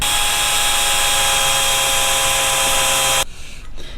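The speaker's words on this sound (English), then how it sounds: "So we just gotta drill 2 holes here for these bolts to fit." A power drill with wood bits bores holes into a metal car bumper bracket, a loud steady whining drone with strained grinding that runs for about three seconds and then cuts off abruptly, leaving a quiet room.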